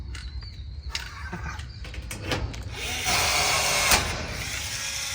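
A power rivet tool working on sheet metal purlins in a cold-formed building, giving quick clicks and snaps followed by a louder buzzing pull, somewhat distant.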